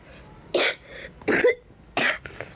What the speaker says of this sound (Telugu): దగ్గు కొంచెం వస్తుందిలే.